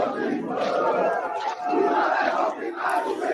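CSA supporters, joined by the Inferno Coral fan group, arrive at the Aflitos stadium for the Náutico vs CSA football match, a dense, continuous crowd roar with shouting and chanting voices that swells and holds throughout.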